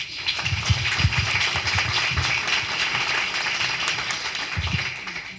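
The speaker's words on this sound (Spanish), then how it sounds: "un, aplauso para ellos también" Audience applause for sponsors at a Latin American gastroenterology society conference on celiac disease, a steady wash of many hands clapping throughout, fairly loud and continuous with some lower thumps.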